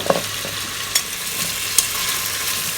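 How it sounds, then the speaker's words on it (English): Whole garlic cloves frying in a pan alongside braised pork ribs give off a steady, close sizzle, broken by a few sharp stirring clacks; no one speaks. "we'll fry this for a minute or so just to char the garlic a little bit"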